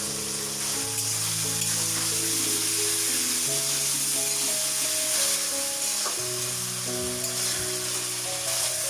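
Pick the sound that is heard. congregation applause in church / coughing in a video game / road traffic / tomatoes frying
tomatoes frying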